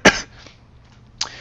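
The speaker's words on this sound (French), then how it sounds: "J'ai une toux qui me tient depuis quelques jours." A man with a cough that has lasted several days gives one sharp cough, a faint breath follows, and a second short cough comes about a second later, close and with no talk.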